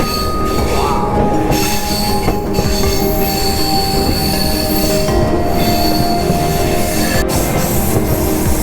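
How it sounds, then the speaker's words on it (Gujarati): Train running through the Thar desert on the Jodhpur to Jaisalmer line, with steady loud roar of wheels on rails and high metallic squealing throughout, close by. "ટ્રેનનો અવાજ બહુ આવે છે"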